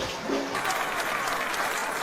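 Applause and an ovation in a video game, the remake of The Raven, form a steady, dense wash of clapping that holds at an even level for about two seconds.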